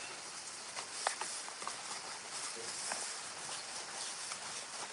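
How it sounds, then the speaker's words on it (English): Rain falls steadily outside a garage used as an art studio, a soft, faint, continuous hiss with a few scattered light taps and patters. "I don't know if you guys can hear the rain."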